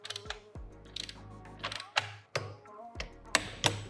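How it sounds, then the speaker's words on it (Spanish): A ratchet with a 19 mm socket tightening the clutch nut on a 170cc small-frame Vespa engine, producing close, sharp metallic clicks in short uneven bursts separated by brief pauses. "con la herramienta entrada ponemos el vaso de 19 y ya solo es cuestión"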